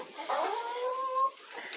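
A single drawn-out hen call, rising then holding steady, close by against a quiet outdoor background.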